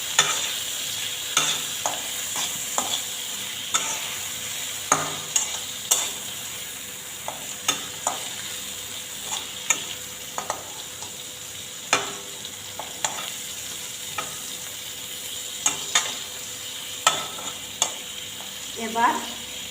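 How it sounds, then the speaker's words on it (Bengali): Spiny gourd (kakrol) pieces fry with salt and turmeric, a soft steady sizzle broken by frequent sharp clicks and scrapes of stirring in the pan. "লবণ দিলাম, হলুদ গুঁড়ো দিয়ে ভালো করে দুটি ভেজে নেব।"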